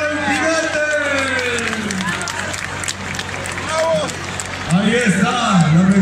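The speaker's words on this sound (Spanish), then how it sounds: "Ahí está la medicina, el aplauso" Rodeo crowd at Huaniqueo in 2019 applauding an injured rider, a broad wash of clapping and crowd noise under a voice calling out over it, swelling louder toward the end.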